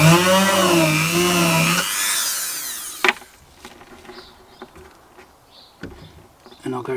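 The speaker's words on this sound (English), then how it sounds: "And then I'll drill a hole here." A power drill whirs loudly and steadily while boring a hole into an Arcade1Up arcade cabinet, then stops abruptly after about three seconds, leaving quieter clicks and handling noises.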